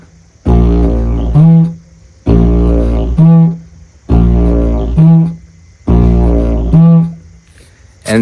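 A didgeridoo plays a beginner rhythm line of four long extended drones, each ending in a brighter toot before a short break, repeated evenly, loud and close without any voice.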